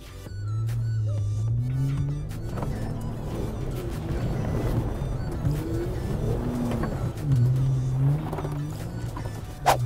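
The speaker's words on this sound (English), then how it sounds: "The JL took that mud, no problem." A Jeep Wrangler JL engine in 4 low pulls steadily through a muddy track, a loud, continuous low rumble with rises in revs and no talking.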